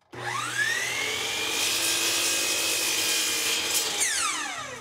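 A power saw whines up to speed and cuts steadily through a wooden face frame piece for a bathroom vanity cabinet, trimming the end to length, loud and close, then spins down.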